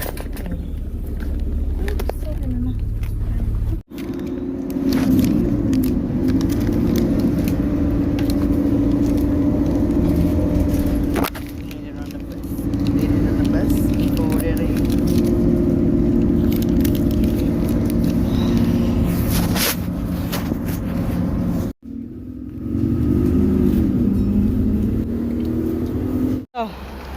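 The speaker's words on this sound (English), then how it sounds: "That wasn't a very long bus ride." A UK bus hums and rumbles continuously as it drives, with the engine droning steadily, slowing and picking up again, and a few clunks and pauses along the way.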